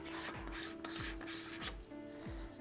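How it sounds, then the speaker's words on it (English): A camera body is screwed by hand onto the M42 threads of a telescope field flattener, making close, quiet, repeated scraping and rubbing clicks as the threads turn in short strokes. "So I'm just gonna screw this on to the back of the flattener."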